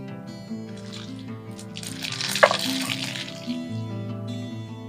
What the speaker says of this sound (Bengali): এবার আমি ফোড়নে দিয়ে দিচ্ছি সর্ষা